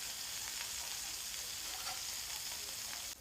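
Food browning in a frying pan gives a steady, close sizzle that continues unbroken for the whole stretch, with no voices.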